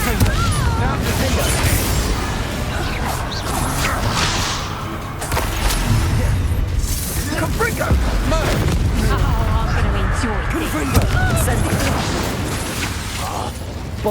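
Hogwarts Legacy spell combat with repeated booming explosions, whooshes and crackling magic bursts in a dense, continuous barrage, loud throughout with shouted incantations over it.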